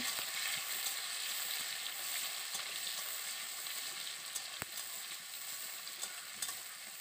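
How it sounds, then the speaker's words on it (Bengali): Onion frying in a pan with a soft, continuous sizzle heard fairly faintly, broken by a few sharp clicks and taps of stirring, with no voices. "পেঁয়াজটাকে প্রথমে ভালো করে আমি ভেজে নিচ্ছি"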